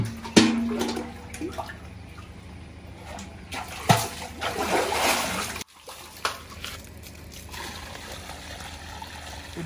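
Well water runs into a kitchen container, a soft steady trickle broken by a few sharper splashes and clunks, heard close with no talking.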